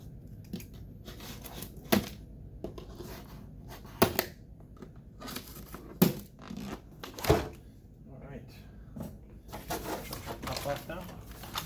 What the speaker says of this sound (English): I'm just going to cut these zip ties here